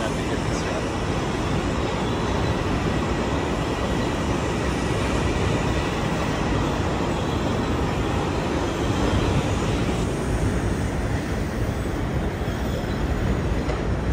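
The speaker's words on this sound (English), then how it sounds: "that's our train?" A Long Island Rail Road train at Jamaica station, heard as a loud, dense, continuous rumble and roar of rolling cars that stays steady throughout.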